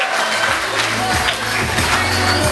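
Wedding guests clapping at a reception while a host leads games, a moderate steady patter of applause mixed with crowd noise and low music.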